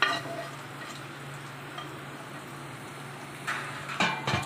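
Tempering for coconut chutney fries in hot oil with curry leaves, a soft steady sizzle with light stirring, then brief clinks and scrapes of a spoon against the pan near the end.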